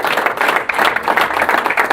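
Church congregation applauding after a sermon line, a steady wash of dense clapping filling the whole moment without pause, moderately loud and close.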